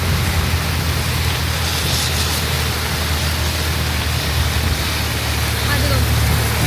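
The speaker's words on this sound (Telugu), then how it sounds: "వర్షం చూడండి ఎట్లా పడుతుందో" Steady, dense rain pours down on a hillside at Tirumala, with a constant hiss and a low rumble underneath, unbroken throughout.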